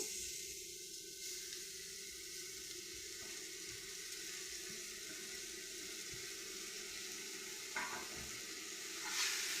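Pumpkin and grated coconut sautéing in a pan make a faint, even hiss, with a few soft clinks and scrapes near the end. No one speaks.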